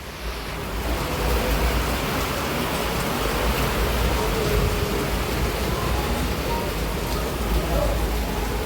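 Heavy rain roars steadily and evenly throughout, a dense constant hiss with no pauses.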